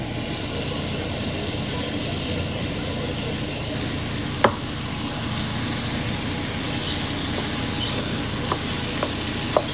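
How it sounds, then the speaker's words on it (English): Meat frying in a pan with soft peppers, basil, oregano, thyme, red pepper flakes, salt and pepper, a steady even sizzle throughout with a few sharp ticks of a utensil, close and without talk. "when the peppers are soft, I'm going to add my meat"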